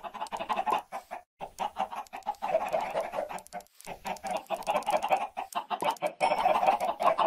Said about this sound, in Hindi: यहाँ पे हमारा मुर्गियों का फार्म है, यहाँ पे हम इनको ब्रीडिंग कराते हैं।